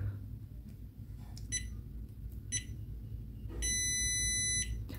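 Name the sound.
JK BMS power-on beeps, two short and one long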